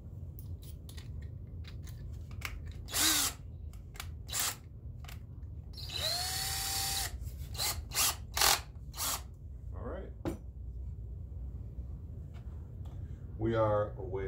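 Power drill with a countersink bit boring into a guitar body, in several short bursts of whirring under bits of nearby talk and handling noise, with one longer run in the middle.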